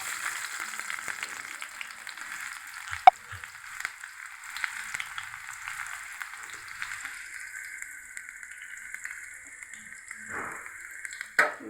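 Chopped onions fry in hot oil with a steady close sizzle and hiss, a few sharp clinks near the start and a utensil knock toward the end, no voices.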